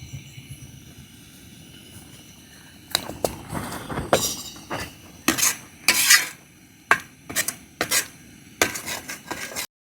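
Utensil clatter from momo sauce being stirred with sugar, soy sauce and salt in a pan, quiet at first, then a series of sharp metallic scrapes and knocks in irregular bursts.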